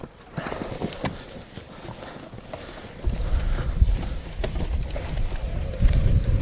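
An unpowered wheelbarrow fitted with a power conversion kit and carrying about 92 kilos is pushed by hand, giving steady rolling rumble and irregular knocks and clatter that swell louder partway through as it rides over a lump.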